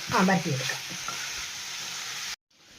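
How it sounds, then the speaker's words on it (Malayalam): Boiled potatoes stir-fry in hot oil for a Kerala-style potato mezhukkupuratti, a loud sizzle and scraping stir at the start that settles into a steady hiss before cutting off abruptly. "ഇനി വേണം നമുക്കത് എണ്ണയ്ക്കകത്തിട്ട് മെഴുക്ക് വരട്ടിയാക്കാൻ"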